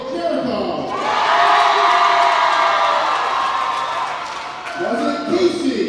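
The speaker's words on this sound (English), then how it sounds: "We need you to help us decide with your applause." A crowd at a women's college gymnastics meet breaks into loud sustained cheering, whooping and applause that swells and holds for several seconds, then eases as a voice returns.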